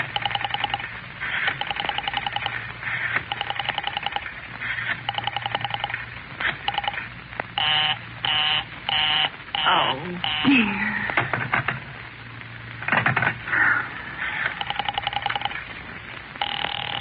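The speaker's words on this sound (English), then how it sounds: "Operator, I've been dialing Murray Hill" An old telephone sounds in a suspense radio drama, with repeated buzzy ringing tone bursts in a steady on-off rhythm, fairly close, interleaved with short spoken and tonal passages.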